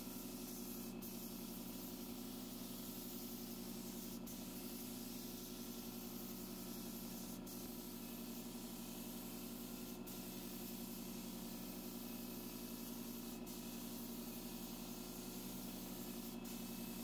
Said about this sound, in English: The paint I'm spraying today is Clark Kensington Premium Paint in the color Black Sand